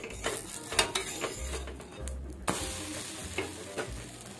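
Dosa sizzles on a pan while idli podi is sprinkled over it, with scraping and stirring clatters and occasional metallic knocks of a utensil against the pan.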